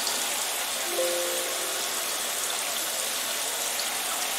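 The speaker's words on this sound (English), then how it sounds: "I guess I'll take a shower." Steady hiss of a shower running in the video game Parasite Eve 2, an even wash of falling water with a faint tonal blip near the start, continuous and close.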